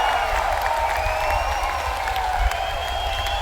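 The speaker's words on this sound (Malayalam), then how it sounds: "ശക്തമായ കയ്യടിയും ആർപ്പുവിളിയും." A large crowd at a direct-selling event claps steadily and loudly, with cheering and whistles rising over the sustained roar of applause.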